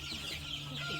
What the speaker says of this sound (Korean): 여기 지금 병아리가 크고 이제 한 달 된 병아리가 크고 있는데